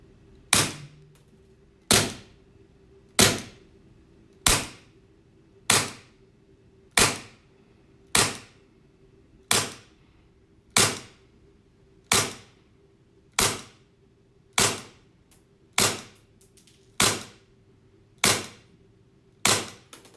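Fourteen sharp cracking shots from a KJ CZ75 SP-01 Shadow airsoft pistol with CNC aluminium grip on a CO2 magazine, fired one at a time at an even, unhurried pace, each snap loud, close and briefly ringing.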